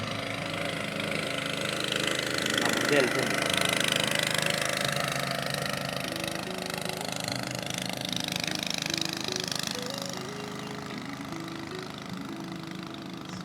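A shikara boat's engine runs steadily on the Alleppey backwaters in Kerala, a loud, continuous mid-pitched drone that fades slightly toward the end, with a brief spoken remark over it.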